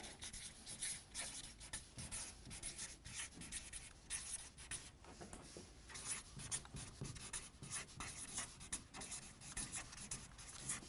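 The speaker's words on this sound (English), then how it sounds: "I'll write it down." Close, quiet scratching of a pen writing by hand on paper, continuous strokes with brief lifts and taps, no speech.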